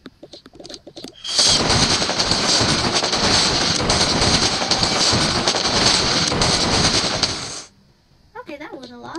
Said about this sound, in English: That's when the fireworks are gonna happen.